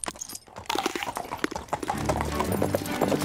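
Cartoon horse hooves clip-clop at a steady, close trot in an animated scene, with music and faint ambience rising underneath throughout.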